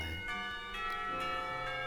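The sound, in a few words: school bells pealing in the visual novel game Katawa Shoujo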